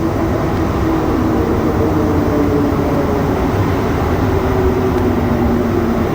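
A Montreal Metro train ride around midnight, heard from inside the car as a continuous loud rumble with a shifting motor whine and steady wheel noise, no talk.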